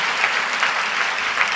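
Church congregation clapping loudly at a Christian sermon gathering, a dense steady wash of many hands with no break.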